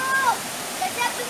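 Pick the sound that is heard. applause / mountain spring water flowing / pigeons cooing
mountain spring water flowing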